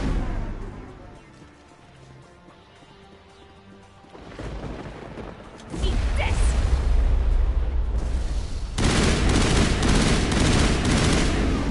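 Heavy gunfire and explosive bursts from the Mass Effect 1 video game, starting as faint distant shots and swelling after a few seconds into loud, dense, continuous firing that fills the rest of the stretch.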